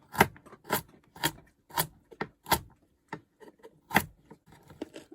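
A knife slices through carrots on a board in a series of crisp, close cuts, roughly evenly spaced at first, then lighter and more scattered.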